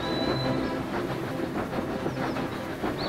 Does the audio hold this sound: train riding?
yes